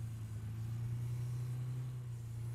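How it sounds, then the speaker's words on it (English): A vehicle engine in PUBG drones as a low, steady rumble, faint and distant, holding an even hum without clear revving or other sounds. "Another vehicle."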